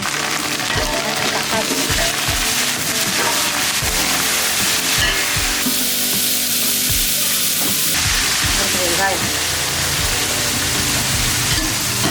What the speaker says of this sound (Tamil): கருவேப்பிலை பொரிஞ்சதுக்கு முன்னாடி தக்காளி வெங்காயத்தை போட்டு வதக்கி